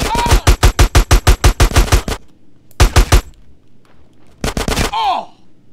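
Rapid bursts of automatic gunfire from GTA San Andreas: a long string of about a dozen evenly spaced shots, a short pause, a brief burst, then another quick burst, with a voice shouting briefly at the end.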